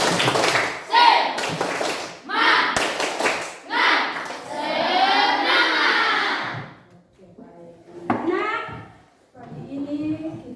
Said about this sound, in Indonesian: Oke, mulai tepuk semangat.